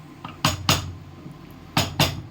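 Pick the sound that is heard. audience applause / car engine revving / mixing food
mixing food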